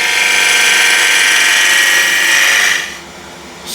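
A woodturning gouge riding the bevel as it cuts a spinning workpiece on a lathe, a loud, steady hiss that drops off sharply near the end.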